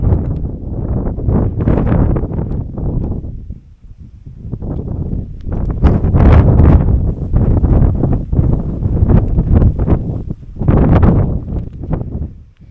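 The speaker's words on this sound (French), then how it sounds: "Le vent vient de se lever à l'instant" Wind gusts buffet the microphone on a mountain pass in Georgia, near Abastumani, in loud, rumbling surges that rise and fall, with a brief lull near the middle before blowing hard again.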